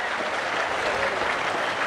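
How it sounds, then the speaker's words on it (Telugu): Audience applause at a speech by a chief minister, dense and steady clapping from a crowd, loud and sustained throughout. "గట్టిగా చప్పట్లు కొట్టి ఆయన అభినందించండి."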